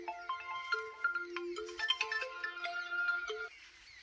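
A mobile phone ringtone plays for an incoming call, a steady melodic tune that rings out loud and close for about three and a half seconds before cutting off.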